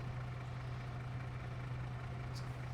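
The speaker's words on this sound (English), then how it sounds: "oh, start the engine." A farm vehicle's engine idles in Farming Simulator 25 on the Alma, Missouri map, giving a steady low mechanical drone with no clear start-up, moderately quiet and with no talk over it.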